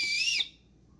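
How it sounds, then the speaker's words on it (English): A survival kit whistle blown once in a shrill, steady blast lasting under half a second, close and loud, then cut off to near silence. "Maybe it's got a whistle too."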